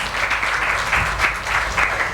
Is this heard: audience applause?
yes